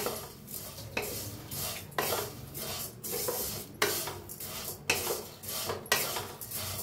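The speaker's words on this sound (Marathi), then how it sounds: "ते भाजून घेऊया पहिलं। होतोय तेल, मग छान भाजतंय। आता मिक्स करून भाजून घेऊया।" Food roasting in a little oil in a pan, stirred with a metal spoon: rhythmic scraping and clinking strokes roughly once a second over a soft, steady sizzle, close and fairly quiet.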